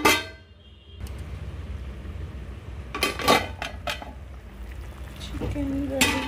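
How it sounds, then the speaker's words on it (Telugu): A metal lid is set onto a pot of gongura chicken, giving a few sharp clinks and clatters in a row against quiet kitchen background noise. "మూత పెడతాం."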